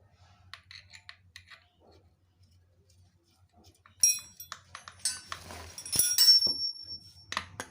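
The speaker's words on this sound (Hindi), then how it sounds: "ये वाले दोस्तों इसके नट जो होते हैं इसको लगा के टाइट करना है दोस्तों।" Metal clinks and rattles while nuts are fitted and tightened on a Pulsar NS 200 engine, sparse light taps first, then a busier burst of clattering and scraping, close by with someone talking.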